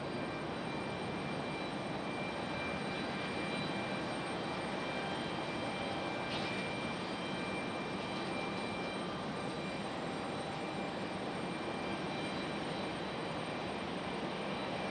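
Southwest airliner sitting at Raleigh Durham International on a stormy night, engines idling before departure to Atlanta: a steady, broadband jet roar with a faint whine, continuous and fairly distant throughout.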